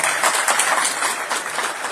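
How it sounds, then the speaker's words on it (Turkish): A crowd at a political election gathering claps steadily for the youth branches, dense continuous applause filling the whole moment at close range with no voice over it. "Gençlik kollarına yine bir alkış yapalım gençlik kollarına."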